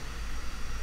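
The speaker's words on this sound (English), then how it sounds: "just white noise and risers" A brief, quiet wash of steady hiss, flat broadband noise with no tone or rhythm.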